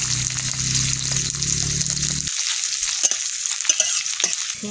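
Chopped onion and green chilli hit hot oil in a pan and sizzle steadily, with a loud low rumble in the first couple of seconds giving way to a lighter, continuous hiss with occasional stirring clinks.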